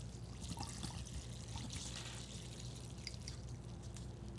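Spiritual cologne for an altar poured out over flowers, a faint trickle and scattered drips splashing softly and steadily at close range with no talking.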